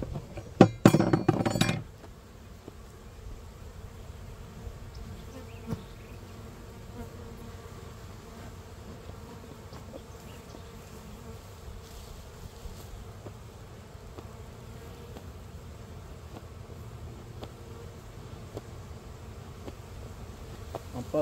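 Honey bees hum in a steady, soft, continuous drone around an opened hive during a frame transfer between hives, after a brief loud clatter of hive equipment at the start.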